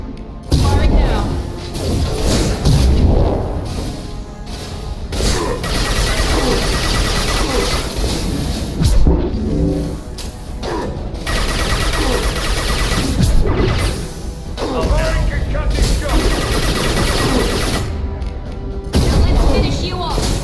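Heavy weapons fire rattles and booms through a Mass Effect 2 firefight, with dense bursts of gunfire and crashing impacts almost continuously, and voices talking at times in the mix.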